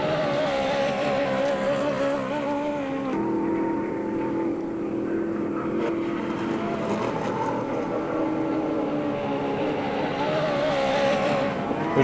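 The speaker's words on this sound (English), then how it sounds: "That's a T2 engine on one of the 2 outboards he brought to race." A 1975 race boat at the Parker Enduro roars with a T2 outboard engine during testing, a loud, continuous engine drone that rises and falls in pitch, filling the whole stretch with no clear talk.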